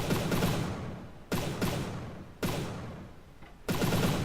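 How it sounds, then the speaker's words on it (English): A Gatling gun on a gunship in From The Depths fires heavy rapid bursts. Four loud, dense volleys each start sharply and then fade, close and alone with no voices. "I think I might keep this Gatling gun, or the double Gatling gun in the future"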